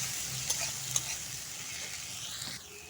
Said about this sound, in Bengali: দিয়ে দেবো আমি রসুন বাটা, তারপরে আছে পেঁয়াজ বাটা দিয়ে নিয়ে অল্প নাড়াচাড়া করে নেব